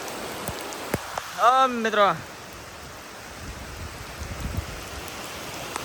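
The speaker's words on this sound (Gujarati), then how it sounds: "કેમેરામાં પાણી પડે છે ટપ ટપાટી, મોટા મોટા સાંટા પડે છે" Heavy monsoon rain falls in Bhaguda, with big drops hitting the camera. A steady, dense hiss fills the air, broken by a few sharp taps, and someone speaks briefly partway through.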